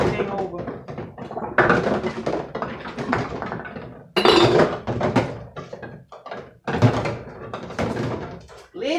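Glass canning jars, lids and canning tools clink and thunk as they are shifted around a kitchen sink, a run of close, irregular knocks and rattles with a voice talking over them.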